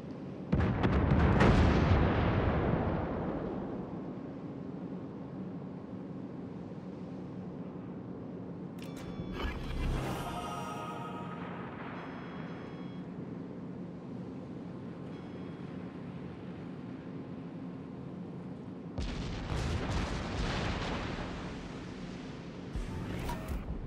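Naval weapons fire on an enemy warship: a loud opening blast rumbles and fades, a sharp crackling report follows near ten seconds, and another burst arrives near the end over a low, steady background hum.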